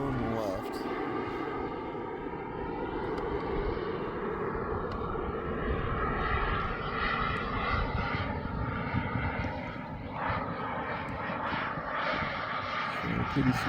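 A Hangar 9 Hawk RC model airplane flies on its maiden flight, its engine giving a steady, fairly distant buzzing drone that rises and falls slightly as it passes, under light outdoor background noise.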